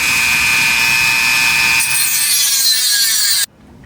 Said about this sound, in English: I'm using the Dremel. I don't know why. It's being grumpy. It's not wanting to cut.